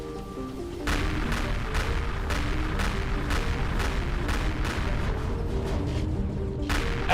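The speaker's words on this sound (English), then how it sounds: "Second guy comes in with the missiles." Missiles explode during combat in the space game Empyrion Galactic Survival, a rapid barrage of about a dozen loud, sharp booms following one another in quick succession, each burst crashing over the rumble of the last.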